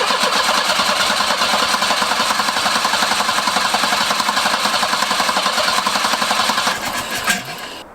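A Volvo 245 engine cranks in a long, rapid, even churn, then catches and briefly fires near the end before the sound drops away, loud and close with no talk.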